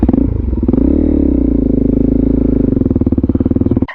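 A Suzuki DRZ400SM motorcycle rides on a cold morning, its single-cylinder engine droning loud and steady up close with a throbbing pulse that wavers under load, then cuts off abruptly at the end.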